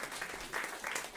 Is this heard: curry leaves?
no